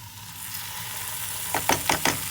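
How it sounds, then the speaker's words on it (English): Chicken liver sautéing with garlic in a pan, a soft steady sizzle joined near the end by a few distinct stirring scrapes in quick succession, close and moderately loud with no talking. "So after we've sauteed the garlic a little bit, now we add in our liver"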